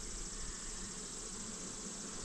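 Faint, continuous buzzing of honey bees around an open hive during an inspection, a steady drone with no breaks and no voices, fairly quiet and diffuse.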